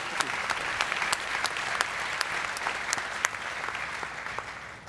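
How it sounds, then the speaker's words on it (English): Audience applause at a startup demo day pitch event, a sustained, moderately distant round of clapping with individual sharp claps standing out, slowly tapering toward the end. "Give a big round of applause."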